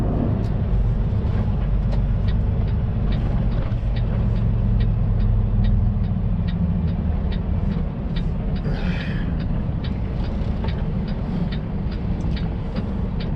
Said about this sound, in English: Traffic, man.